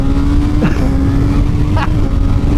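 A Kawasaki ZX6R 636 motorcycle engine drones loud and steady while riding, with a continuous buzzing roar and brief pitch sweeps as gears change, close and filling the whole clip.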